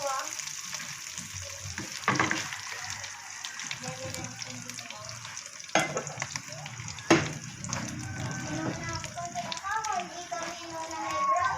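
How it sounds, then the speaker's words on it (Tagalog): Leftover pork lechon crackles and sizzles steadily in a pan, with occasional stirring clatters and sharp pops, fairly close; there is no speech. "medyo na prito na yung ating lechon."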